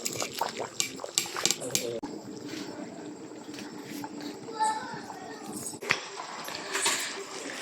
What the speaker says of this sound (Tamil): பயங்கரமா கொதிக்குது பாத்துங்க